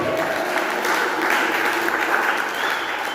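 A church congregation applauding together in praise of Jesus during a worship service, a dense, steady roar of many hands clapping at moderate distance, sustained evenly throughout, with a faint voice beneath it.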